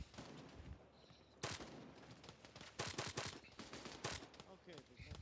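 Arma 3 combat gunfire with rocket fire: repeated sharp loud bursts and blasts crowd the scene, with background chatter in between.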